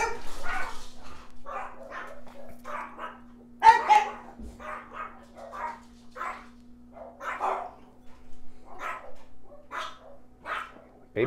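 Several dogs from a large household barking at home, a long run of sharp barks and yips in uneven bursts, moderately close, with no talk.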